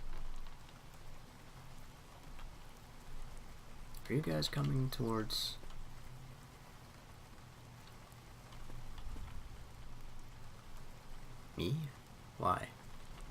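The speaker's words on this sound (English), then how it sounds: "Thunderstorm, rain." Steady thunderstorm rain hisses throughout in the survival game Cataclysm: Dark Days Ahead, a continuous low wash under two brief bursts of someone talking.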